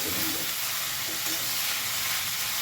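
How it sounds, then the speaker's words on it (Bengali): Salted ash gourd (chal kumro) pieces are stirred in a frying pan, giving an even, moderately loud sizzle with faint scraping underneath. "লবণটা দিয়েও কিন্তু ভালো করে নাড়াচাড়া করে নেব।"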